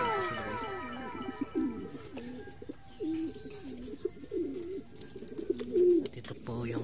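Racing pigeons coo in repeated soft, throaty phrases close by, with chirping birds and faint voices in the background.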